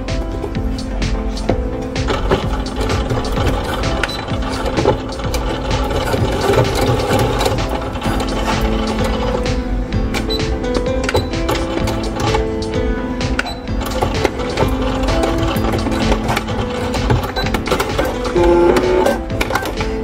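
Sewing machine stitching along the fabric edge of a camper van bench cover, a steady continuous mechanical whirr with rapid needle rhythm running loud and close throughout.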